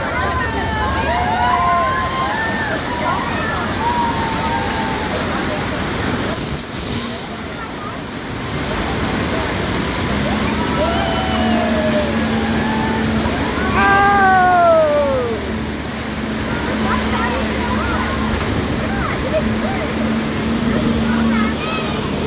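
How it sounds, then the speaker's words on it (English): A theme park ride's water main burst effect: rushing water pours and sloshes continuously, loud and enveloping, with people shouting and calling out over the torrent, at Universal Studios Hollywood. "The water main just broke."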